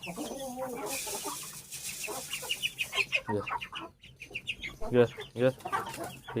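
Peruvidai chickens cluck close by in a lively, irregular string of short calls and clucks, some sharper and louder, over quiet room noise.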